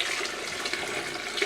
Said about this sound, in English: Beside the hot water, I have another pot of hot water.